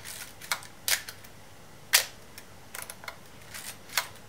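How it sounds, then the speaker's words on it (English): Minolta XE5 film camera being wound on after loading film, giving a string of sharp mechanical clicks and ratcheting snaps at irregular intervals, close and quiet against a faint background. "wind on one frame, close the back, and then you just wind on a couple of frames"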